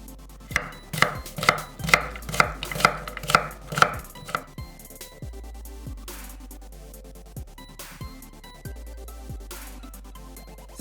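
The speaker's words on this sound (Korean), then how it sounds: "무 반쪽은 이렇게 작게," Half a radish being chopped into small pieces with a knife on a cutting board for a spicy cold noodle sauce: a quick run of about eight crisp, rhythmic chops, then sparser, softer cuts, close and clear with no voices.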